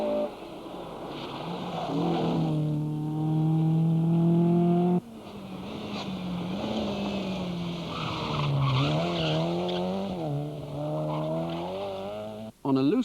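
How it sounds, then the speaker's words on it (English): A rally car slides on a loose surface while its engine revs hard, the pitch rising and falling through each slide, with tyre scrub beneath. The engine cuts off abruptly twice. "On a loose surface, the same basic rules apply. But in addition, you must get the car sliding."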